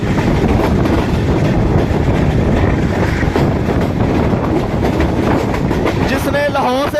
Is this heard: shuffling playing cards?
no